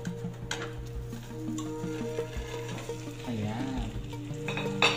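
Pineapple pancake being flipped and cooked in a frying pan on a stovetop, with a soft steady sizzle and occasional scraping and clinking of a utensil against the pan, close and moderately loud.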